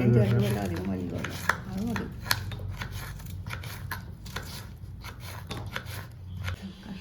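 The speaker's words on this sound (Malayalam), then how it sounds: "നമ്മൾ നാരകം അരിഞ്ഞു കഴിഞ്ഞു." A big lemon being chopped with a knife for a Kerala-style pickle, a series of irregular cutting knocks and slicing scrapes, with someone talking over the start.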